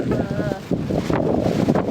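Strong wind at Abbey Falls buffets the microphone in a loud, continuous rumbling roar, with people's voices partly heard beneath it.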